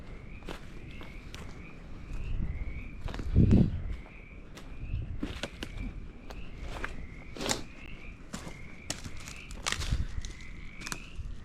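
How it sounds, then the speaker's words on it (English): Frogs croak in a repeated rhythmic series near an abandoned farmhouse, moderately distant, mixed with footsteps crunching on the ground and rustling. "I hear frogs."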